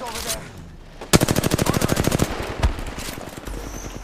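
A rapid burst of automatic gunfire rattles out in the video game Apex Legends, followed by a single heavier shot and quieter in-game ambience.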